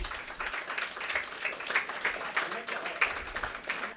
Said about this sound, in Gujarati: આપણે બધા જ તાળીઓનો ગડગડાટ કરી